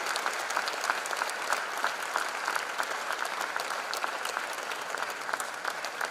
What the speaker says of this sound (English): Give a big applause to your parents for their sacrifice.